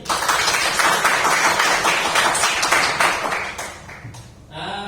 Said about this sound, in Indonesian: Sekali lagi terima kasih tepuk tangan untuk kelas ini.